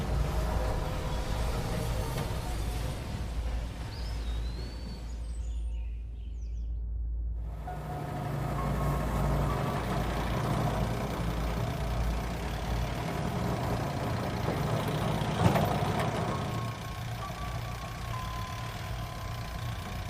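A car engine idles and hums low and steady while the vehicle makes a U-turn, a constant drone that continues for the whole stretch with no speech.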